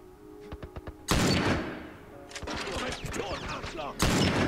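Heavy gunfire from a tank in The Last of Us. Sharp, loud blasts arrive at about one second and again near four seconds, with rapid crackling bursts of shots between them and a few faint clicks before the first blast. A voice talks over parts of it.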